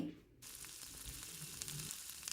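Mustard seeds crackle and sizzle in hot oil inside a pressure cooker, a soft, steady frying hiss with faint pops, heard alone at low volume.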